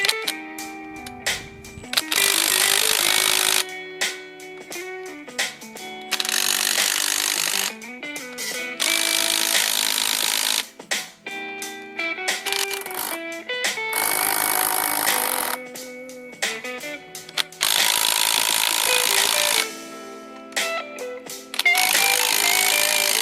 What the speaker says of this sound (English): So I'm going to rub this bit down and clean up this arch a little bit